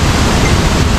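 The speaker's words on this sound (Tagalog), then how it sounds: "Batis lang siya." A forest stream near a waterfall in Quezon Province rushes steadily, a loud, close, unbroken wash of flowing water with no talk.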